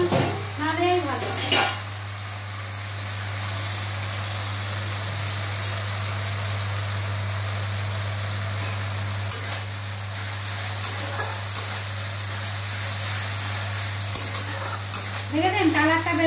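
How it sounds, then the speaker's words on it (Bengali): Coriander leaves stirred into a thick frying curry, a steady close sizzle with intermittent scraping of the spoon, a constant low mains hum underneath, and brief voices at the start and end. "ধনে পাতাটা দিয়েও একটু নাড়াচাড়া করতে হবে"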